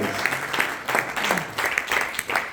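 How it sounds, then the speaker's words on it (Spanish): A church congregation applauds with dense, rhythmic clapping that swells in pulses, loud and close. Faint voices can be heard beneath it. "Dele palmas y dele gloria a Dios."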